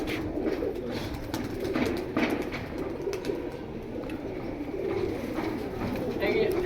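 Young pigeons cooing in cages at a market sale, a dense murmur of soft, low coos running continuously under a bustle of nearby voices and background noise.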